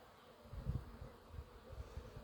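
Bees buzzing in a nest built into a ceiling, a low steady droning hum that swells and fades slightly, close but faint, with no voices.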